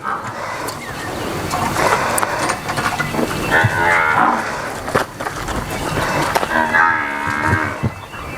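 Jafrabadi buffalo calves kept for sale on a farm moo repeatedly in several drawn-out calls, fairly close and loud, with overlapping bleats over a steady barnyard background.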